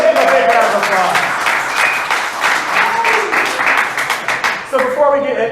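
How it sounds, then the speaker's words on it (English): A comedy club crowd gives a headlining DJ a big round of applause, steady dense clapping with scattered cheers, while a host keeps talking over it before the noise fades. "Let's give him a big round of applause."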